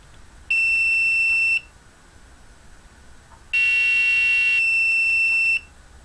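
An Arduino-driven piezo buzzer gives two loud, steady electronic tones, one lasting about a second and a later, longer one, with quiet gaps around them and no talking.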